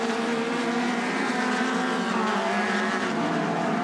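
Sportsman-class race cars roar around a dirt oval at Elk River, Minnesota, a dense continuous wall of engine noise from several cars at once, loud and sustained with no pause.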